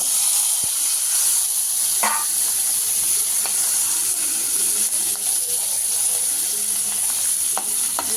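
Chopped green chillies sizzling and frying in hot oil in a pan, a steady loud hiss with a few occasional stirring clinks close up.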